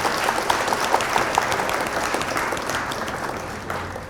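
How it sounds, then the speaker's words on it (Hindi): An audience at a felicitation event claps loudly to welcome a senior advocate to the stage, full applause that holds steady and thins slightly toward the end. "आप जोरदार तालियों से उनका स्वागत करें"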